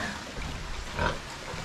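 Pig grunting on a rainy, muddy farm where goats are kept, a short low snort rising briefly near the middle over steady rain-like background noise, with no talk.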